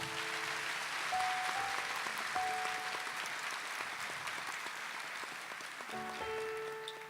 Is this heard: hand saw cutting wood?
no